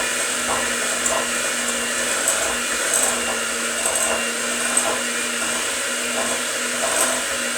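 An electric mixer beats sugar cookie dough in a home kitchen, giving a steady motor whine with faint rhythmic thumps as the beaters turn, continuous and fairly close with no talking.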